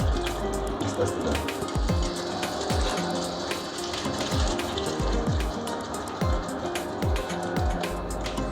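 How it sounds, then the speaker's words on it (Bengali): Water is poured into a pan of Bengali pomfret fish curry masala, giving a close liquid splash and bubbling with repeated sizzling drips while the pan is stirred. "এবার এর মধ্যে দিয়ে দেব অল্প পরিমাণ একটু জল"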